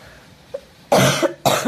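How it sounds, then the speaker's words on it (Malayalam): A person with a cold gives two loud, harsh coughs close up, each a short burst, after a small throat sound in otherwise quiet surroundings. "ജലദോഷമുണ്ട് മക്കളെ ജലദോഷമുണ്ട് ചുമണ്ട്"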